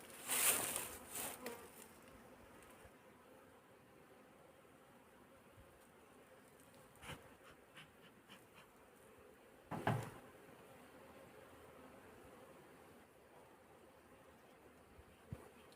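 A honeybee colony in its hive, being checked before winter, hums with a faint, steady buzz, broken by a few knocks and scrapes of hive parts being handled close by.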